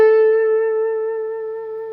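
An electric guitar sounds a single sustained note held and slowly fading over two seconds, clean and steady with a touch of reverb, played alone without talk as part of a minor third phrase.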